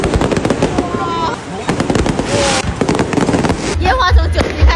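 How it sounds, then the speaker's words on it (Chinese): Fireworks set off continuously at a rural wedding banquet in Wuchuan, Zhanjiang, Guangdong, a loud dense crackle of rapid bursts and pops throughout, with voices mixed in. "烟花从9席开始，一直放到9席结束，都没有断过"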